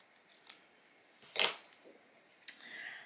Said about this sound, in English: So I'm going to just cut this piece off